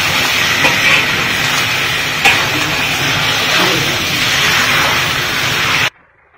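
Pork stir-fried with minced garlic, giving a loud, steady hiss of sizzling that runs unbroken for about six seconds, then cuts off abruptly.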